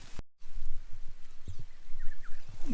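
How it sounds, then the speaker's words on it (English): Light rain shower falling on trees over open ground, with soft scattered drops pattering on leaves and a faint, steady hiss, close by and unbroken by talk. "There's got a little shower of rain coming through, so we're sheltering under the tree"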